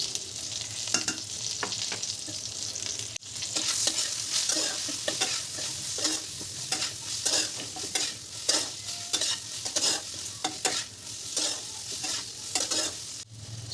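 Potato and eggplant chunks frying in oil with turmeric and salt for a spicy vegetarian bori dish, stirred steadily with repeated scrapes and clacks of a spatula over a continuous close sizzle.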